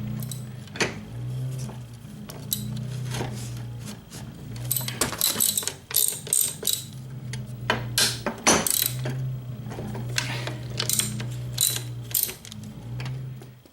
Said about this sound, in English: Alright, so I got the 4 nuts loose.